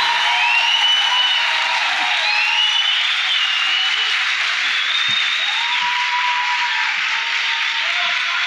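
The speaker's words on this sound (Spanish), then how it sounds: "Aplauso, por favor." An audience applauds loudly and continuously after a live performance of a Peruvian waltz, the dense clapping steady from start to finish with faint vocal tones carrying over it.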